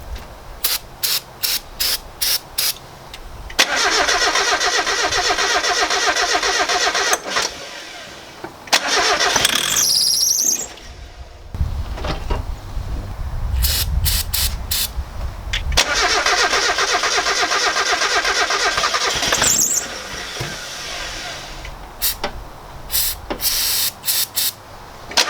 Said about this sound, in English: Alright, well it still starts on starter fluid